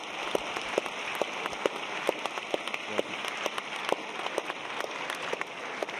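Audience applause at a science debate held as an annual memorial event, a dense, steady patter of many hands clapping with scattered sharper claps, sustained throughout.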